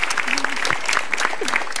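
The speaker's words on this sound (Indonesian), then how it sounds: "Tepuk tangan dong buat Mbak Widi ya, Mbak Widi." A short burst of audience applause at a stand-up comedy show, steady clapping from a crowd filling the whole moment.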